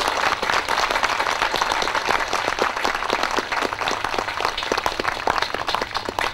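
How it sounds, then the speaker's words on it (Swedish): Lively applause from an outdoor sing-along crowd at Picassoudden, dense and continuous with quick overlapping claps throughout. "En stor applåd."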